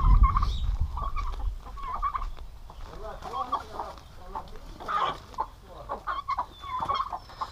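Guinea fowl scuffling with a free-range chicken in a yard while a turkey stands nearby, with repeated clucks, gobbles and harsh bird calls close by, intermittent and agitated, mixed with a little human voice.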